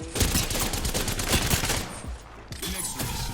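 Rapid automatic gunfire in the video game Apex Legends, a dense stream of close shots that breaks off briefly before another volley resumes, no talk.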